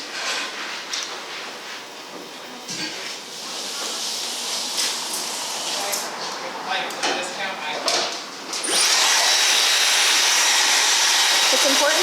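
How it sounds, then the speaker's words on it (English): A handheld blow dryer dries a long-haired man's hair in a barbershop, a loud continuous hiss that shifts as the dryer is shaken, then grows stronger near the end, with talking over it. "shaking the blow dryer super fast so that it doesn't burn his scalp"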